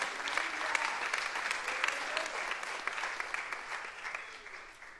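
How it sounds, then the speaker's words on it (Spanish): A church congregation applauds in steady, dense clapping that fills the whole stretch at moderate level, easing off slightly toward the end with no talk over it. "Un aplauso al Señor."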